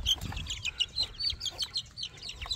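Chickens and chicks on a farm during a release, with rapid high chirps from the chicks and low clucks from the hens. The calls come in quick, close bursts with no talk.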